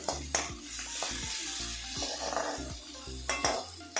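Onions sautéing in a pan for an uluva ila (fenugreek leaf) thoran, with steady sizzling broken by repeated clinks and scrapes of a utensil against the pan, close and moderately loud.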